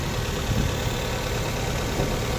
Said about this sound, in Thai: เครื่องยนต์เดินดีเลยครับ